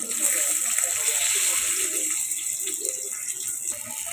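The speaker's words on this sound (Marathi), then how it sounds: "हे बघा अशा मी तेलावर फ्राय करून घेते।" Stuffed chillies with potatoes sizzle in hot oil in a pan, giving a steady, close crackling hiss that runs throughout.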